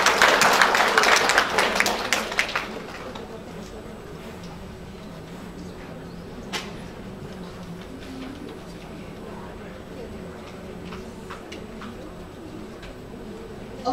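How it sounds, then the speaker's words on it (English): An audience at an academic conference plenary session applauds a speaker, a dense burst of clapping for about two seconds that quickly fades into a quiet room with scattered faint clicks and shuffles. "let's have a big applause for Professor Yu"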